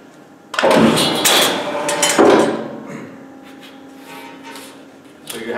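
A RAPIDO 32 CNC shear trims a narrow metal strip, with two loud, harsh clanking cuts close by, each fading into a steady machine hum.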